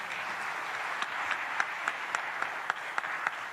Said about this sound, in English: A round of applause to Our Excellency Dkt.Samia Suluhu Hassan, the President of the United Republic of Tanzania, for those great words.